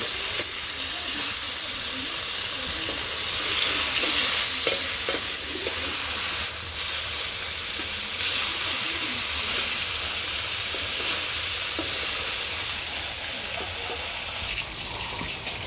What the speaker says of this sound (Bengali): আর এদিকে আমার মাছ ভাজি উল্টিয়ে দেন লাগবো